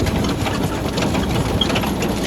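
A Kubota KL-41 tractor engine runs steadily during a potato harvest, a dense, close, rattling chug with no break across the short stretch.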